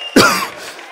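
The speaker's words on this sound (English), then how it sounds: "Don't cough, please" A single sharp cough bursts out, close by, then trails off into quiet.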